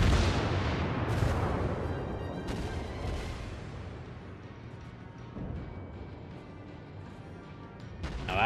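Battleship Nagato firing its main guns in World of Warships, a heavy opening salvo followed by several sharp booming reports with long rumbling decay, loud and close.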